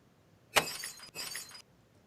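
A glass breaking effect, pitched down in Logic, plays as one sharp shattering impact followed by two bursts of tumbling, clattering shards, with no voices.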